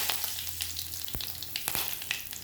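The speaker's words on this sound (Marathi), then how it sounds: "तेल गरम झालेलं आहे आता मी थोडं जिरं टाकणार थोडा हिंग टाकणार चार पाच कढीपत्ता टाकणार" Cumin seeds, asafoetida and curry leaves sizzle in hot oil for a dal tadka, a continuous close frying hiss with a few sharp crackles and pops, fairly quiet and without voices.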